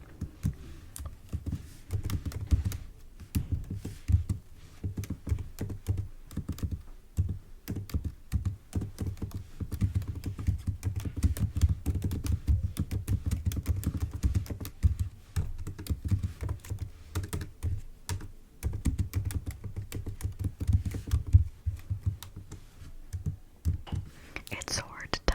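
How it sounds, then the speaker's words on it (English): Long nails click and tap on a computer keyboard in a quiet room, a close, continuous run of fast typing with brief pauses, while a soft whispering voice talks over it. "It's so hard to type with nails."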